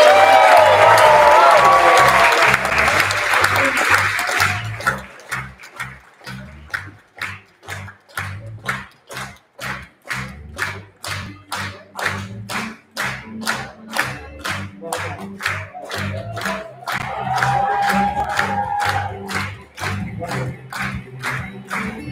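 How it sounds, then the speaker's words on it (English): Wedding guests applaud and cheer the newlyweds, a loud crowd burst that settles into a steady rhythmic clap in unison, with cheering and voices rising again toward the end. "A big round of applause for Mr."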